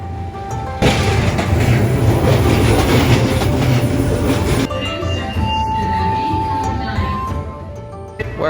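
A train runs above ground in Tokyo, a loud close rumble with rapid clickety-clack of wheels on the rails that shifts to a lighter, steadier roll partway through.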